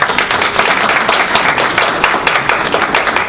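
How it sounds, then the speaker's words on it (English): Audience applause at a school board of education meeting, a steady dense patter of many hands clapping throughout, fairly loud and continuous with no voices over it. "Let's give them a big round of applause."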